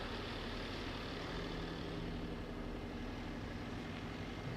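A small-sounding engine on an Indian motorcycle drones steadily and close, a buzzy, thin, moped-like idle with a low hum underneath, no voices.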